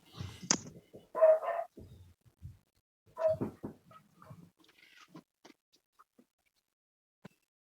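Excited dogs, one of them a puppy, bark and yip outdoors as heavy rain begins to pour: a few loud, close bursts early on, then scattered short yelps and sparse faint noises fading to near silence.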